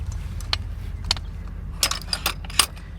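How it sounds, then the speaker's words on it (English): A Roadmaster Nighthawk tow bar's arms are folded up, giving four or five sharp metallic clinks and rattles spaced about half a second apart over a low idling engine hum. "Then we just take both of the arms, fold them up,"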